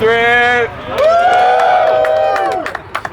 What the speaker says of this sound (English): We're gonna vote by just cheering.